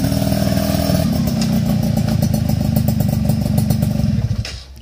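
A Suzuki Tornado motorcycle fitted with a stainless steel racing exhaust revs loudly and continuously up close, a steady throaty rumble with rapid pulsing that builds in pitch before cutting back near the end.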